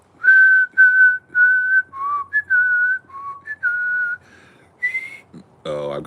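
A person whistles a slow, melodic tune in a series of sustained phrases, up close and fairly loud, ending with a brief breathy noise.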